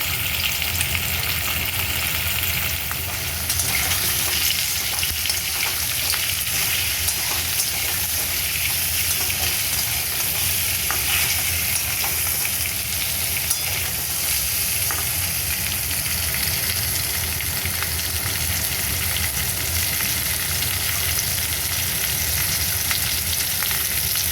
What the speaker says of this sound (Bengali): তেল আমার গরম হয়ে গেছে এবার আলুগুলো আমি ছেড়ে দেবো অল্প করে ভেজে নেবো আলুগুলো